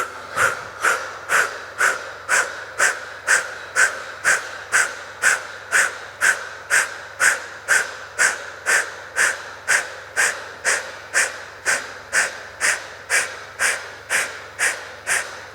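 Steady deep breathing during an Ashtanga and Yin yoga stretching session, each breath a soft rushing pulse repeating in an even rhythm, about two per second, close and alone without talk.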